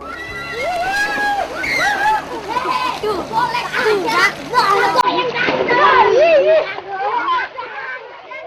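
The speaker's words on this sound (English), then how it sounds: "Children's laughter and happily playing with friends" Children shout and squeal in play at a beach in the golden afternoon, voices overlapping loudly and continuously with splashing water, some laughter among the high excited cries.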